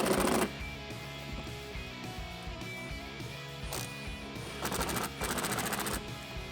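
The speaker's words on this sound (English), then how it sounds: "I can just tackle them with my impact gun from the front" An impact gun tightens clamps during a Whipple Stage 1 supercharger install on a 2018-2019 Ford Raptor, firing loud rapid hammering bursts: one short burst at the start, then a brief one midway and two longer rattling bursts near the end, over a low background hum.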